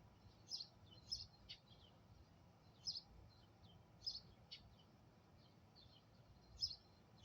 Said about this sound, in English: Y'all hear the birds in the background.